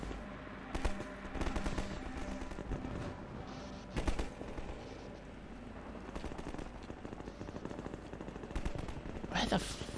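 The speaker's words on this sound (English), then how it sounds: "That guy up there is still shooting." Enemy gunfire rattles in bursts throughout Half-Life 2 combat, moderately distant and fairly quiet under a dense wash of game sound, with a few louder volleys standing out.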